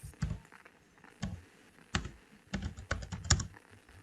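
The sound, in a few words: typing on a computer keyboard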